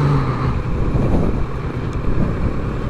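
A vehicle engine revving as the accelerator is pressed on an urban street in Recife, a close, steady low roar with wind buffeting the microphone and no talk.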